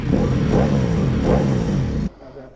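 A Ducati Multistrada motorcycle engine revs hard and close, a loud throaty rumble swelling twice before cutting off abruptly, followed by a brief quieter tail.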